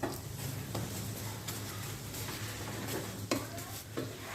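A yogurt paratha fries in a pan with a little oil, giving a faint, steady sizzle close by, broken by a few soft scrapes and taps of a utensil.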